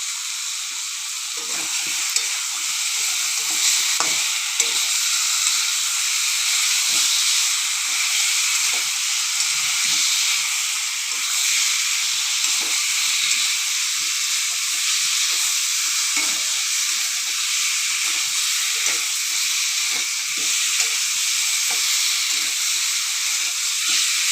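Masala spices for a katla fish curry fry in a pan with a steady, close sizzling hiss, broken by frequent soft scraping stirs throughout.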